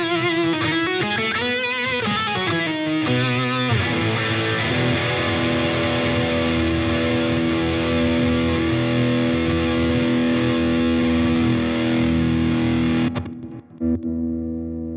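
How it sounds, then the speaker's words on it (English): Distorted electric guitar through an amp: a few bent, gritty notes, then a long sustained chord ringing out before being muted. "But this amp has the distortion"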